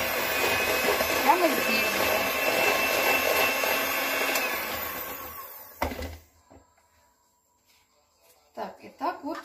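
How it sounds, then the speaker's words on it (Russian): An electric mixer whips chilled mascarpone at low speed for tiramisu, giving a steady, close whir for about six seconds before it cuts off and a voice speaks. "И будем взбивать на медленной скорости."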